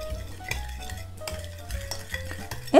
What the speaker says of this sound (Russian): И размешиваем.